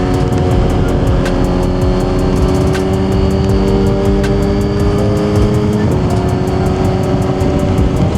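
A car driving on a track while its tires warm up, with a loud, steady engine drone that holds near and constant throughout and shifts pitch slightly partway through, with no talking.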